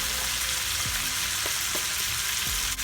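Meat searing in a pot with crushed garlic for a stovetop pot roast, a steady close sizzle with a few soft stirring clunks, no voices.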